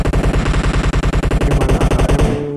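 AR rifle firing on full auto in the mobile game PUBG Mobile, a rapid, evenly spaced burst of loud close shots lasting over two seconds, ending with a brief tail.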